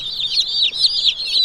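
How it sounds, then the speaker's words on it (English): Cold baby chicks huddled under a heat lamp on a pastured chicken farm peep continuously, a dense, high-pitched chorus of overlapping chirps heard close up with no talking. "Oh, baby chicks, baby chicks."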